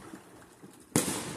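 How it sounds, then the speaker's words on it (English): Fireworks burst close by with one sharp, loud explosive crack that then trails off into a sustained crackling hiss, following a stretch of faint, distant pops. "Yep. Firework."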